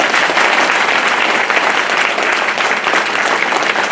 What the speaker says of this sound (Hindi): जोरदार ताली अपने लिए बजाओ।